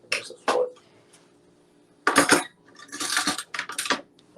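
A metal fork clinks and clatters against dishes during home cooking of baked stew chicken, with a couple of sharp isolated taps followed by a longer stretch of rattling, fairly close and clear.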